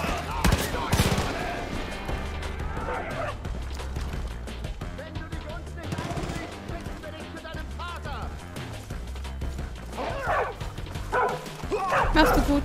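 Barking dog in the video game Far Cry 5, sharp yips and woofs cutting through dense game sound with gunfire bursts and music, while a player talks over the action.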